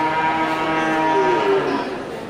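A Simmental fattening bull at a cattle market lets out one long, loud, drawn-out moo close by, trailing off at the end, with crowd noise faintly beneath.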